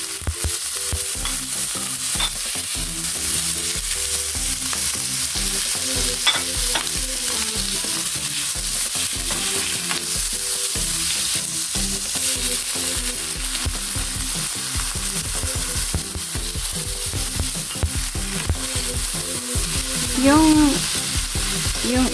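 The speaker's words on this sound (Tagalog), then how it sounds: "Yung itim po, yung black fungus, fry lang natin ng konti together with the shrimp." Shrimp and black fungus sautéing with ginger and onion in a pan, a loud continuous sizzle and crackle with repeated scraping stirs throughout, no talk.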